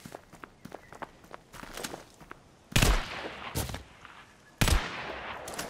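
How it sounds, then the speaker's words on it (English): Gunshots from the CryEngine shooter Escape: Sierra Leone, with scattered soft footsteps and clicks leading into two loud, sharp close-range blasts, each followed by a brief echoing tail. "The gun sounds are really nice,"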